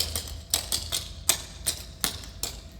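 Clogging steps tap on a hard floor, a string of sharp, close clicks in quick syncopated rhythm, with double steps and brushes giving uneven pairs of taps.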